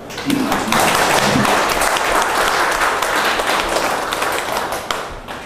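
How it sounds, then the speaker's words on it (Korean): Audience applause in a church lecture hall, a dense, steady wash of clapping from a crowd that holds strong for about five seconds before tapering slightly at the end. "박수 한번 주세요"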